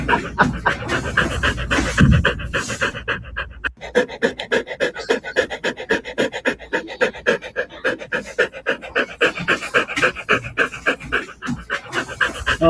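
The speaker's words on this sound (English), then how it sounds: "That good doggo just breathing like a freight train." A dog pants heavily and rhythmically right up close, fast wet breaths repeating steadily for the whole stretch with no voices.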